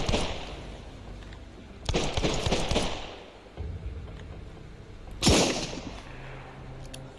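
Gunshots in the survival video game Sunkenland, two loud separate blasts a few seconds apart, each with a short ringing tail, over quiet background ambience.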